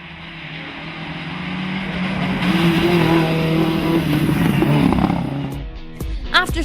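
A rally car on an asphalt stage of the Wexford Stages rally, engine note steady and loud through most of the clip, passing close and fading near the end, with commentary voices underneath.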